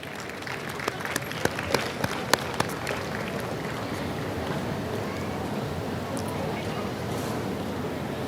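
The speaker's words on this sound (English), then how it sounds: "Please give a big round of applause." Audience at an FIA flag hosting event applauding, with a few sharp, distinct claps at first, then a steady, moderately loud wash of clapping from a crowd that continues to the end.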